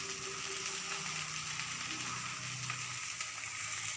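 Okra (bhindi) frying in a pan for a vegetarian meal, giving a steady, close, even sizzle with a soft crackle and faint stirring throughout, and no one speaking.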